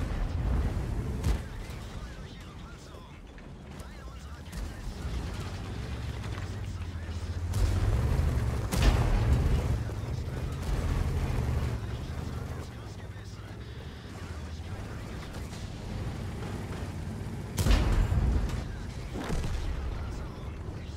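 Tank cannon shots in World of Tanks gameplay, heavy booming blasts at a few spaced moments over a low rumbling game background, with people talking over it.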